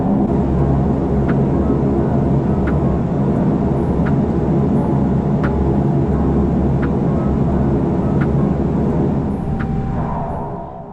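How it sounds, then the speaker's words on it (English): A Regional Express airliner takes off from runway 23, its engines a steady, loud, broad roar heard from inside the cabin, with faint regular ticks throughout and the noise easing slightly at the very end. "Now please enjoy this unedited takeoff."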